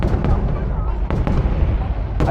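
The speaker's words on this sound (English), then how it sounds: "I'm just gonna let you enjoy the pyrotechnics" Fireworks explode over the Saigon riverside on New Year's Eve, several sharp booms in quick succession over a dense roar of crowd noise and crackle.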